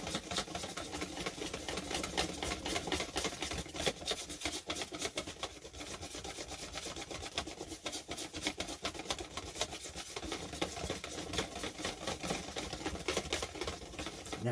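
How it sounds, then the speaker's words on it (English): Jesmonite mix being whisked hard in a container, a continuous scraping, rasping swish that keeps going for the whole stretch, close and fairly quiet, with no talk. "Now, give it another really good whisk"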